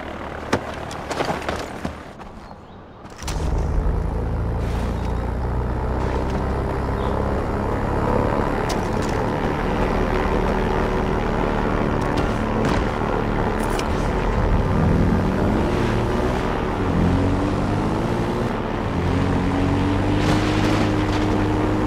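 An airplane's engine and propeller drone steadily as it takes off in the video game Far Cry 4, a loud sustained roar with shifting pitch that follows a brief quieter opening.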